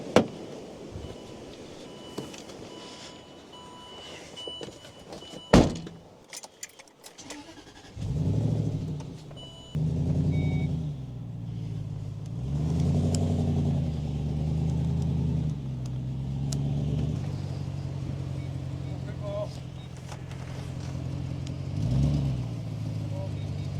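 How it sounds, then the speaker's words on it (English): An old VW Beetle being moved onto a trailer, a low engine rumble that starts up and idles unevenly with revs rising and falling, mixed with clunks and people talking nearby. "we're just getting the Beetle on the trailer"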